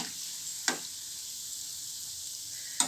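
Gulab jamun fry in hot oil with a steady, even sizzle, broken by two brief sharp knocks of a utensil.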